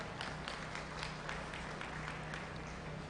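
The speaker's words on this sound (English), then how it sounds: "Let's give all the exhibitors that showed bulls a round of applause." Faint, distant applause at a youth livestock show for the exhibitors who showed bulls, a thin, even patter of clapping over a steady background hum.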